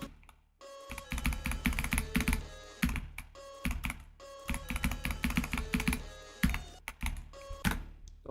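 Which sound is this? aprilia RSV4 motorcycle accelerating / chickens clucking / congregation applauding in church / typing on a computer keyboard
typing on a computer keyboard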